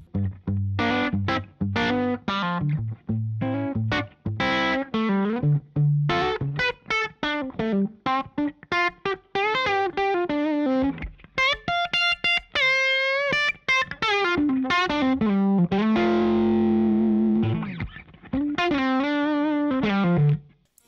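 Electric guitar played through a Bogner JB45 amp into an open-back 8-ohm 212 cabinet gives a full, bass-heavy, slightly driven tone, with continuous fast picked lines and some sustained bent notes, loud and close throughout.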